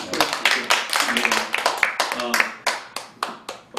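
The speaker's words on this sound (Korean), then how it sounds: "이 부분에 우리 박수 한번" Applause from a small group in a television studio during a talk show, heard as distinct, closely spaced hand claps in an uneven rhythm, with faint voices underneath.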